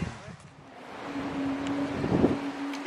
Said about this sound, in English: It's a windy old day here at Finnecke Marina.